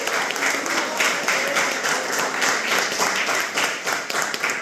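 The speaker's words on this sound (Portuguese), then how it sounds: "Gostaria que o irmão desse uma linda salva de palmas." A church congregation gives a round of applause during a sermon, continuous dense clapping heard fairly near and steady for the whole stretch, with no talk over it.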